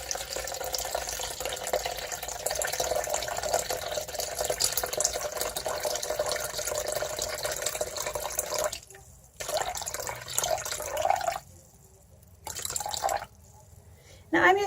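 Tap water runs into a container on a scale while being measured out for a hot process fluid black soap batch, a steady close rush that cuts out and restarts several times near the end, with talk over it.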